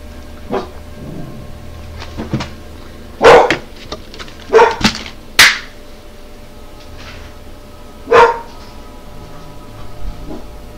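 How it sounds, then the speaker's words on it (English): Dog barking in a Skyrim game session, several sharp separate barks at irregular intervals, moderately near, over a low steady background hum with no speech. "I go see what my dog was barking at"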